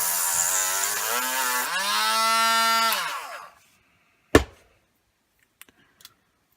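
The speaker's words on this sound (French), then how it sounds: "Donc je vais limer un peu ça avec la Dremel." A Dremel rotary tool grinds and files the edge of a plastic plug, a loud continuous whine whose pitch drops and rises for about three seconds before it stops, followed by a sharp knock and a few faint clicks.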